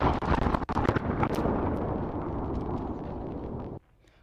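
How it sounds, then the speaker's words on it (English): A massive explosion on Christmas morning booms and rolls into a long, dense roar of rumbling debris and echoes, then cuts off abruptly near the end. "that is the sound of the early Christmas morning explosion"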